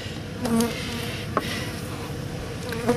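Honeybees drone in a steady, close buzz inside a hive, with individual bees whining past now and then and a faint knock partway through.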